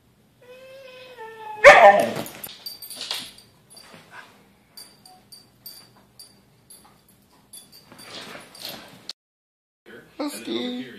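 A Siberian husky whines and yips for attention, a high drawn-out whimper followed by short scattered vocal bursts, with a person talking quietly between them.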